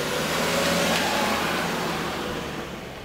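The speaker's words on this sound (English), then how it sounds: "shouted from the car as it sped off" A car engine roars loudly nearby and then recedes as the vehicle pulls away, the noise fading over a few seconds.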